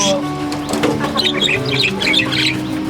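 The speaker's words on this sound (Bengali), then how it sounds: "এইদিকে দেখা যাচ্ছে বাজরিগার পাখি।" Budgerigars calling among a mix of birds kept on a rooftop garden farm, with bright overlapping chirps and warbles close by, along with some background noise and a faint voice.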